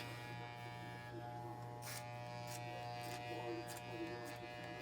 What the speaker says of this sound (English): I'm essentially doing clipper work over most of it